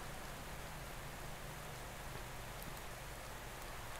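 Rainfall in Pro Cycling Manager during a Giro d'Italia stage, a uniform continuous wash of drops hissing across the track, steady and unbroken from start to end, with nobody talking.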